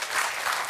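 A TV game-show studio audience applauds, a dense burst of clapping that fills the whole short moment with no voices on top.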